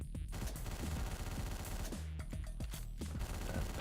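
Rapid gunfire in the top-down shooter Hotline Miami, dense clattering shots fired in quick bursts with brief gaps, loud and continuous over a pulsing synth music backdrop.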